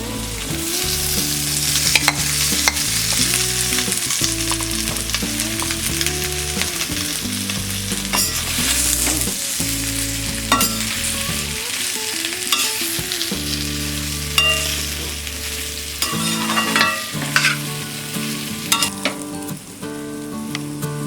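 Boiled potatoes sizzle in oil with ginger, turmeric and curry leaves as a spoon repeatedly scrapes and turns them in the pan, a loud continuous fry with rhythmic stirring clatters over background music.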